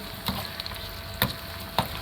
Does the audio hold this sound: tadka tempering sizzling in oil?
yes